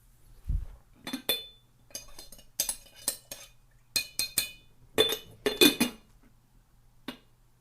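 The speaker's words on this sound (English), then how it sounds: "let's just give this a stir" A spoon stirs green tea in a cup, giving a run of bright, irregular clinks against the sides, close and clear with brief pauses between bursts and no talking.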